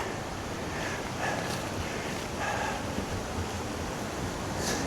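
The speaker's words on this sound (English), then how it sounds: "That waterfall or cascade or whatever it is" Steady broadband rush of a waterfall cascading in a forest gorge near an old train wreck site, continuous and fairly loud, with a few faint bird chirps above it and no talking.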